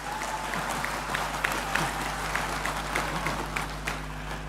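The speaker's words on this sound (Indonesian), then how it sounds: "Tepuk tangan kita loh." A crowd claps steadily for the Bank Indonesia governor at a formal payments-system event, a sustained, fairly loud patter of many hands over a low room hum, with faint voices mixed in.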